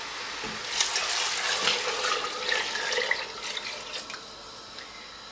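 Water pours steadily into a pot of cooking lentils close by, a soft continuous splashing that runs for several seconds with no talking.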